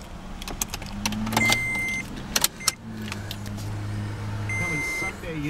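A 2008 Toyota Tacoma at a dealership starts and idles with a steady low engine rumble, while electronic chime beeps, a window motor whir and a few sharp clicks and rattles sound up close.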